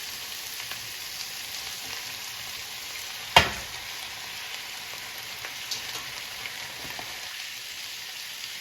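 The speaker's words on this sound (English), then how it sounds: "And now we're going to add in the broccolini florets." Broccolini florets hit a hot pan and sizzle steadily, with one sharp clatter as they drop in and light stirring scrapes after, loud, close and with no talk over it.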